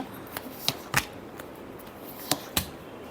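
Tarot cards shuffled by hand during a reading give a handful of soft, separate snaps and riffles over a quiet room hiss, with no voices.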